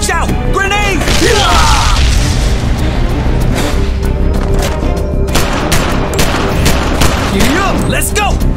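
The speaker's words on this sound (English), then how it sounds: "Watch out! Grenade!" Grenade blast and rapid gunfire in the M.A.R.S. video game, loud bursts of shots and booms layered over each other, with shouting voices throughout.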